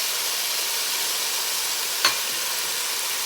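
Diced canned tomato drops into a hot soup pot of leftover turkey, sausage and beans, giving a brief soft splat over a steady loud sizzle and hiss that continues alone.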